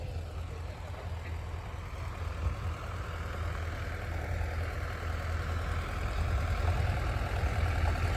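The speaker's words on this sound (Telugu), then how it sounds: "ట్రాక్టర్స్ అన్ని షిఫ్టింగ్ లో ఉన్నాయి, అటువైపుకి అయితే షిఫ్ట్ చేస్తున్నారు" Tractors shifting position at a lakeside dewatering works, their engines a steady low idling rumble that holds throughout and swells slightly toward the end, with no voices over it.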